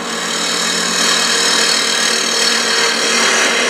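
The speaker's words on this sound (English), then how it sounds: "I'll just run a bowl gouge or a spindle gouge just across the surface" A bowl gouge cuts across the surface of a wooden lid spinning on a woodturning lathe, giving a steady, close, hissing scrape that holds evenly throughout with no talking.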